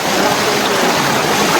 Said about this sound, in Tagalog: malakas yung agos ng tubig.